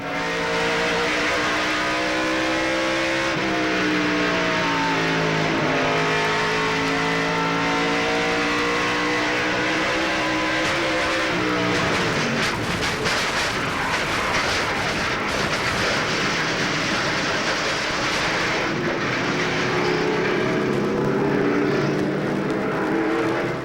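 A loud race truck engine heard onboard at the 1996 Coca-Cola 200 truck race roars continuously from up close, pitch climbing and dropping through gear changes, with wind and rattling noise and no voices.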